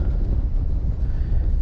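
Gusty wind buffets a microphone on the frozen Pechora river, a dense, continuous low roar with slight surges in strength and no voices.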